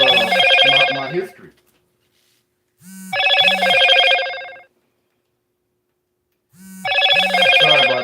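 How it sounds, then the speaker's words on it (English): A mobile phone rings in repeated bursts of a bright electronic ringtone with a low pulsing tone beneath, loud and close, separated by silent gaps, with a brief spoken phrase during the first burst. "I don't know why my phone is doing that."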